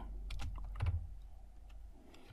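Computer keyboard keys pressed in a short burst, F2 and then Enter, while working in a spreadsheet; a few crisp, close clicks with a heavier final keystroke and no talk.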